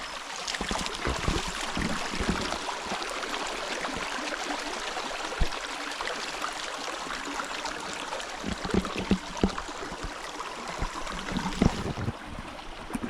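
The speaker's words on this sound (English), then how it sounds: "Feel how the water flows, guys." A stream on rural Jamaican land flows with a steady, close rushing and splashing, broadband and continuous, with small gurgles and knocks breaking through.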